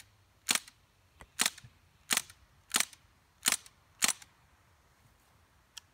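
A CO2-powered BB gun fires full auto as six sharp, evenly spaced cracks about two-thirds of a second apart, loud and close against a quiet background.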